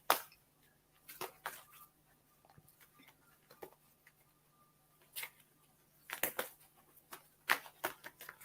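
Tarot cards being shuffled in short bursts of papery riffles and flicks separated by quiet pauses, close and fairly soft.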